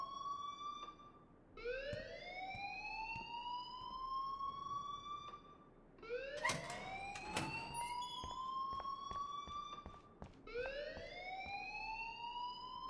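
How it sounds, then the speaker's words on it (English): A school alarm in the Life is Strange video game sounds in repeated rising electronic whoops, about four loud sweeping cycles with short gaps and no talk over it. "please turn off that alarm since that's your job"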